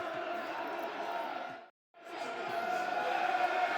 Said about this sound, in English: Crowd responding to the brighter football that we're seeing